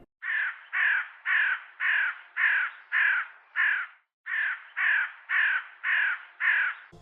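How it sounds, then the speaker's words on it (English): A raven calls in a steady series of about twelve hoarse, evenly spaced croaks with one short pause midway, loud and clear against silence. "It's a raven, so clever."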